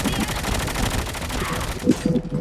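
Rapid gunfire in a battle royale shooter match with snipers, dense bursts of shots running almost continuously, with a louder cluster of impacts near the end and voices talking over it.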